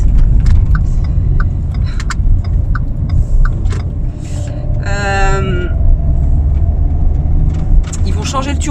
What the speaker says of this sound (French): j'emmène ma voiture chez le garagiste